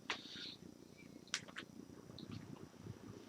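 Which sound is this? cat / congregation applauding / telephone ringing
cat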